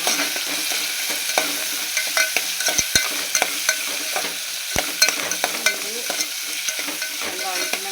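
Onions, small onions and green chillies sautéing with salt in a pan, giving a steady sizzle with repeated scraping and stirring clicks from a spatula, close and clear with no talk.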